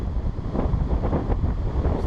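Strong wind buffets the microphone outdoors on a cold walk, a continuous low roaring rumble with gusty surges throughout, loud and close, with no talking.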